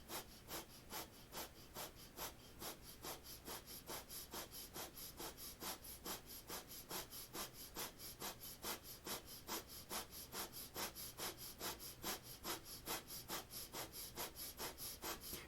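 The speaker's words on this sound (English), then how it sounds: "begin breath of fire" Rapid, even breath of fire during a seated kriya with one leg lifted and arms extended, a close, steady train of sharp nasal exhalations at about two per second, continuing without pause or talk.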